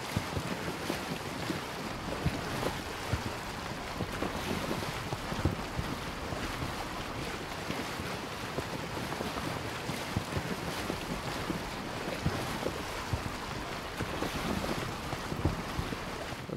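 A boat sails across open water in the video game Assassin's Creed Origins, its hull washing through waves under constant wind noise. The sound is a steady, moderately quiet rush of water and gusts, with no talking.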